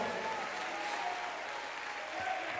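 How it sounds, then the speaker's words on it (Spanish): A church congregation applauds, a steady wash of many hands clapping at moderate, fairly distant level throughout, with no talk over it. "Dale un aplauso de victoria al Señor."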